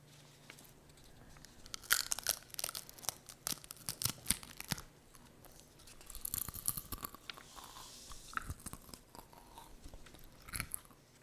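Close, crisp crunching of potato chips, with repeated bites and chewing in irregular bursts and no talking.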